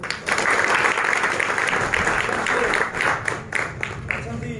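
Sustained applause from the audience at a dance masters' association meeting, steady dense clapping with a few brief dips, a voice faintly audible beneath it.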